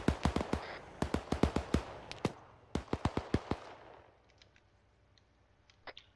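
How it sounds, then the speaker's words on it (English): Mortar fire and explosions in the Arma 3 military video game: a rapid run of sharp, loud blasts in quick clusters. They thin out to a few fainter distant pops toward the end. "Mortar fire coming in."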